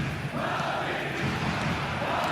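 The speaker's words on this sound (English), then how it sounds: "Certainly gave this crowd something to really cheer about." Stadium crowd at a football match roaring and cheering in a steady, dense wash of many voices, loud and continuous throughout.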